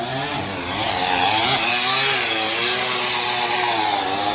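Harbor Freight dual-action polisher working on a Ford Mustang Shelby GT350R, a loud continuous motor whine with shifting pitch as pressure changes, heard close and alone.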